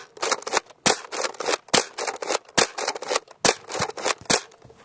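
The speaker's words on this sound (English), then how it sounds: "I'm also going to shoot off my recon from the same position." A Nerf Recon blaster fires foam darts, giving a string of about a dozen sharp, close plastic snaps and clacks in a steady, fairly quick rhythm.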